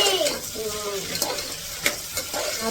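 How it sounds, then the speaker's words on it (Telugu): Vegetables and rice are stirred in a pressure cooker for biryani, with repeated scraping and sizzling sounds and a few sharp clinks close by. "ఇప్పుడు అన్నీ వేసి ఏం చేయాలి మిక్సింగ్ మిక్సింగ్ మిక్సింగ్"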